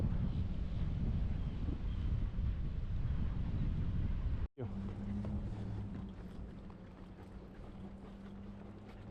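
A boat engine drones steadily through an inlet amid heavy wind buffeting the microphone, with a brief cut midway, then a clearer low motor hum continuing.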